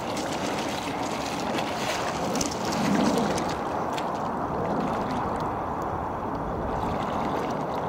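A small robot boat moves off across Bray Lake, a steady close wash of water and motor hiss with a slight swell near three seconds, continuous and without talk.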